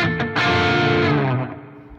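Electric guitar played through a Marshall Astoria Custom KT66 valve amp driven by a gain pedal, with a little reverb: a few close, distorted chords ringing out and sustaining before fading.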